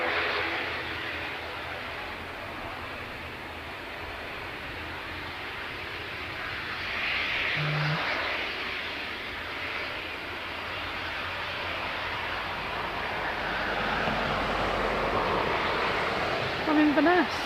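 A Loganair ATR 72 turboprop airliner arriving at Manchester Airport, a low distant engine drone with a soft wind-like wash that builds gradually through the clip, a voice speaking over it at times.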